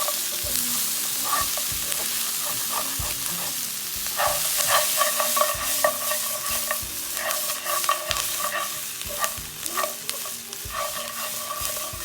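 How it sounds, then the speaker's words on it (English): Green chilies fry in hot oil alongside onions for a Chettinad mutton dish, a steady sizzle broken by repeated scraping and stirring knocks throughout. "I did not fry the green chilies in the oil. I am just doing that now."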